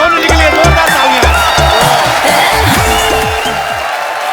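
A studio audience on the Kapil Sharma Show erupts in loud, sustained applause and cheering, dense clapping with whoops and music running underneath throughout.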